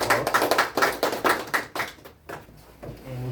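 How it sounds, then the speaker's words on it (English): A short round of applause from a small group of players, with brisk clapping that quickly fades out, leaving a faint voice at the end. "round of applause."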